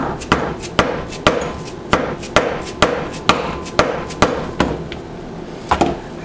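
A hammer striking a punch to make holes in a bag, a loud, close series of sharp taps at an even pace of about two per second, with no talking.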